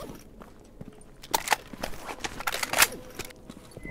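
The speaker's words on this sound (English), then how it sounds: "Oh, I hear footsteps. Like alive footsteps." Footsteps in the video game S.T.A.L.K.E.R. GAMMA, a run of irregular scuffing and crunching steps, close and moderately loud, heaviest in the middle of the stretch.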